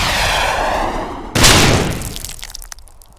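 Gunfire from the ED-209 robot: a sudden loud burst erupts partway through over a steady broadband hiss, then trails off gradually.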